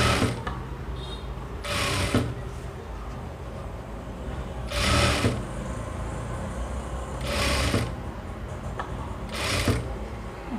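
A sewing machine stitches fabric for a three-year-old girl's frock in short mechanical bursts, four separate runs of rapid whirring separated by pauses filled with steady low background hum.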